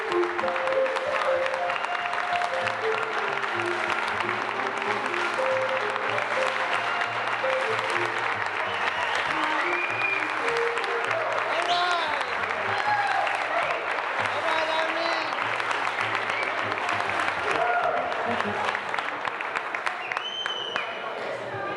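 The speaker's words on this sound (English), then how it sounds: "Let's give him a big round of applause." A crowd applauds at a testimonial dinner in St. Michael's Gym. The clapping is steady and sustained, with music and voices mixed in beneath it throughout.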